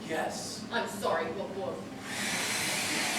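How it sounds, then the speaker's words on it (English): A steady broadband whoosh of a hairdryer starts partway through and runs loudly to the end, after a person speaks briefly over quieter background noise. "will you turn that hairdryer off?"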